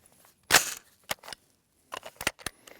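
Several rifle shots, one sharp loud crack followed by a spaced series of quicker, fainter reports, each short and dry with quiet gaps between, no talking.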